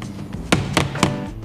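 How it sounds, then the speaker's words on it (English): Three soft, dull taps of a dead blow hammer seating an Alloygator wheel rim protector, evenly spaced, close by and fairly quiet. "Tap it in, make sure it's sitting flush."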